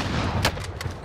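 Gunfire in a combat setting as hostiles drop into the area, with a few sharp bursts of shots over a constant rumbling background.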